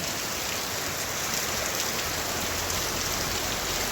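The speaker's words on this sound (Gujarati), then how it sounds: "ત્યાં વરસાદ આવી ગયો" Steady rain patters and hisses evenly, a continuous wash of drops on surfaces with no voices.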